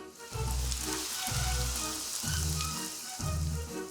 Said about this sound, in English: Rain began to pour down.